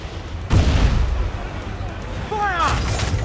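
Ship cannons firing in Assassin's Creed 4 Black Flag, a loud close boom followed by a rumbling tail and a second blast, with shouting voices heard during the barrage.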